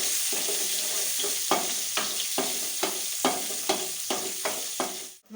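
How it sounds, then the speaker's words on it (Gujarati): Green chilies sautéing in hot oil with curry leaves, fenugreek and asafoetida for sev khamani, a steady close sizzle broken by repeated scraping stirs about every half second, ending abruptly. "મરચા છે એ નાખશું હવે એને બે મિનિટ આપણે સાતળી લેશું"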